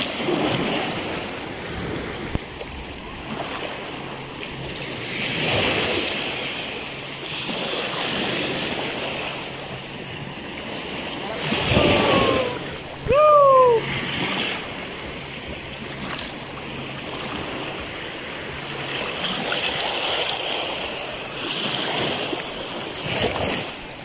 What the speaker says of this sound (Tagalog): Ang ganda ng alon.